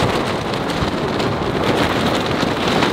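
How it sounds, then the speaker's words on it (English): A fierce windstorm batters a tent in the wilderness during a trip photographing fishing bears, producing a loud, unbroken roar of buffeting wind and rain-like hiss close to the microphone. "I've got my feet propped up against the side of the tent because it is so windy"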